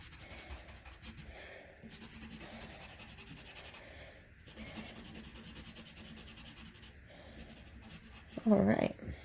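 A colored pencil rubs back and forth across paper while a drawing is filled in, giving soft, steady scratchy strokes with brief pauses, heard close up under a person talking.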